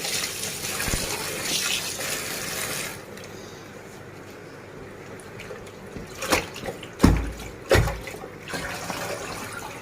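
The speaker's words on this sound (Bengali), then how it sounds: "সব দেখুন আমি কত সুন্দরভাবে ধুয়ে নিচ্ছি।" Tap water running over vegetables as they are rinsed, a steady gush that quiets midway, then a few sharper splashes and knocks as the produce is handled near the sink.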